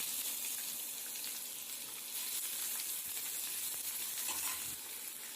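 Chopped onion and garlic sizzle in a spoon or two of oil for jeera sambar, a loud continuous crackling fry with faint stirring and a touch of running water.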